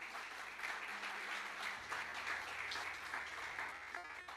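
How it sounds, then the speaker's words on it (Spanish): A church congregation applauds during a worship service, sustained clapping spread through the room at a fairly quiet level, with a low hum beneath. "¿Puede levantar un aplauso,"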